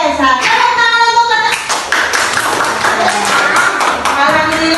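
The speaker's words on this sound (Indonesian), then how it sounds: "Tepuk tangan untuk" Schoolchildren clap together in a classroom at an elementary school, loud, close and rhythmic, with young voices chanting or speaking at the start.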